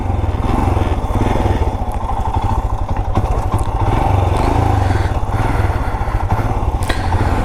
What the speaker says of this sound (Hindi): तो अभी बाइक ऑन हो चुकी है।